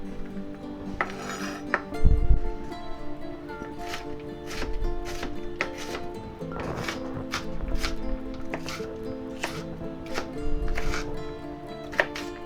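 A knife strikes a cutting board while slicing food into strips for a Western-style egg breakfast, irregular sharp taps and clinks mixed with kitchen clatter over a steady background hum.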